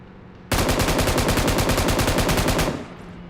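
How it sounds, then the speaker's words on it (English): Automatic gunfire in the PUBG battle royale video game, a loud, rapid burst of evenly spaced shots lasting about two seconds before cutting off and leaving a low background hum. "trying to avoid those shots"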